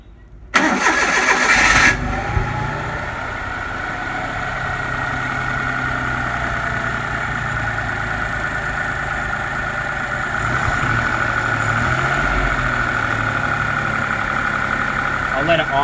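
An engine cranks briefly and catches, then settles into a steady, loud idle that drones on without change.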